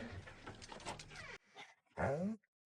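A dog whimpers: a short, high, wavering whine near the end, following a stretch of muffled rustling noise and a quiet pause.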